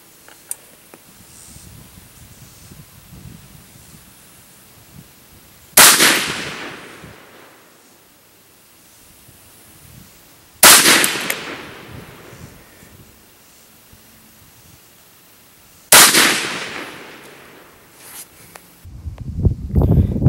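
Three loud, sharp rifle shots from a .20 GPC wildcat-caliber rifle, spaced several seconds apart, each cracking then fading, with wind and faint shuffling in between.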